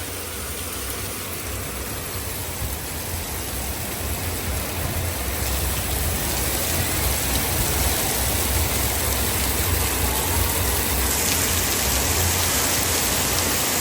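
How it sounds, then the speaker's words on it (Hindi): Heavy, steady rain pours down on a street in Pattaya, Thailand, as a dense, continuous roar with no pauses, loud and close throughout. "बहुत ही तेज बारिश हो रही है।"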